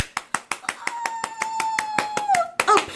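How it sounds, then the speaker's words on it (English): Audience clapping in a quick steady rhythm, crisp separate claps close by, with a sustained tone and voices rising over it near the end. "applause to all of you"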